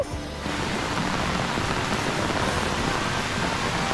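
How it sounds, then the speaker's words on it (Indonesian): Rain pours steadily at Dusun Bambu, an outdoor park in Lembang, Bandung: a dense, even hiss of falling water that stays loud and unbroken throughout. "Ini lagi hujan."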